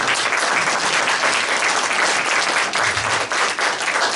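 Audience applause at a board workshop meeting, a dense, steady clapping that fills the whole stretch at close, loud level without letting up, with no voices rising above it.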